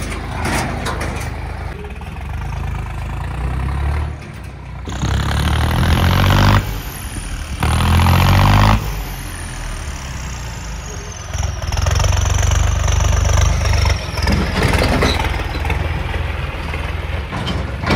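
A John Deere 5050D tractor idles on a farm field, its low, steady diesel rumble swelling louder in a few stretches and running continuously, close by, with no talk.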